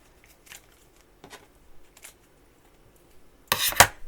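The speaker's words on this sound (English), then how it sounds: "just going to take my scissors and cut across and make a couple of strips here" Scissors snip across a sheet to make strips for wedding cake decoration, giving a few quiet, spaced cutting sounds and ending with a louder, rustling snip near the close.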